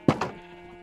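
Two quick bleats from a sheep in a Minecraft-style video game, close and clear, the second a little softer, then a quiet tail.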